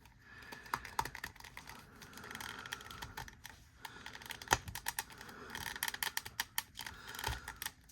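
Ratchet joint in the upper thigh of a DC Multiverse Mongul action figure being worked, producing dense, rapid plastic clicks that come in uneven bursts for several seconds, close and fairly quiet.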